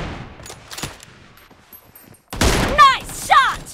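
Gunfire in a PUBG Mobile arena match: a dense burst of shots rings out loud and close in the second half, with game voice callouts layered over the shooting.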